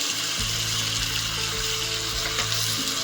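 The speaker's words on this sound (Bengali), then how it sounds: "এবার এটাকে আমি ভালো করে একটু কষিয়ে নেবো" A paste of ground tomato, ginger and garlic with chili powder sautés in a pan for a boal fish curry, a loud, dense, continuous sizzle close by with no talking.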